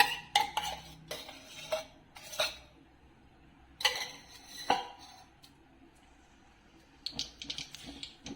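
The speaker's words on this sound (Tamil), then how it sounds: "ஸ்டவ் ஆன் பண்ணி கடாய் வச்சு நெய் ஊற்றி சூடு பண்ணிடலாம்" A metal kadai set down on a stove with ghee poured in, heard as several sharp clanks and clinks of pan and utensil spaced out across the clip, fairly close and alone.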